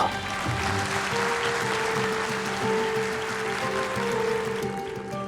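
An audience claps steadily and fairly loudly throughout, a dense continuous wash of applause with some faint tonal sound underneath.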